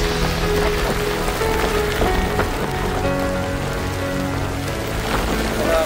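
Rain falls steadily during a solo motorbike ride on the Mumbai to Konkan route near the Kashedi tunnel, giving a dense, continuous hiss with a low rumble underneath and no speech.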